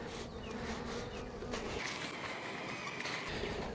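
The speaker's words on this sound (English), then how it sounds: "When there's this many bees in the hive," Dense, steady buzzing hum of honeybees packed into a crowded hive during a swarm cell check, close and continuous with a few sharper buzzes passing near, no talking.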